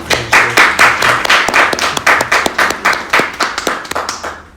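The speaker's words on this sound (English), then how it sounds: "I think they definitely deserve some applause" A small audience claps at a Filipino American History Month community event. The clapping is close and fairly loud, with individual hand claps standing out in a loose, uneven rhythm that thins out toward the end.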